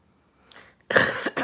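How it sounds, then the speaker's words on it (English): After a near-silent moment, a single close, loud cough bursts out, followed by a short second cough in a quiet indoor room. "I just coughed a little bit."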